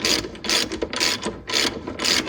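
A ratchet wrench turns on a bolt while adjusting a Nissan G35 handbrake, giving four quick bursts of clicking pawl ratchets in a steady back-and-forth rhythm, close and clear.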